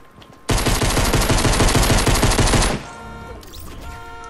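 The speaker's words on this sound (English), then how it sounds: "SMG, where are you? Tactical SMG." Rapid, loud automatic bursts from a Tactical SMG in the video game Fortnite, a dense fast-firing stream lasting about two seconds, then cut off into quieter game ambience.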